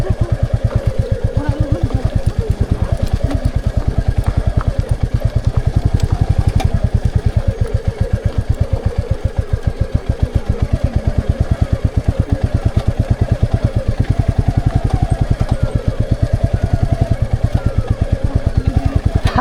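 A Royal Enfield Classic 350 thumps along on a ride toward Chisapani, its single-cylinder engine firing in a steady, rapid low pulse that stays close and loud throughout, with faint voices occasionally underneath.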